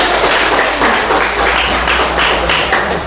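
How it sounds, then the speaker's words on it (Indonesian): Clapping from a classroom of students after a question about network types, loud and close, a dense continuous burst of many hands with a low hum underneath, no voices over it. "Oke, silakan tepuk tangan."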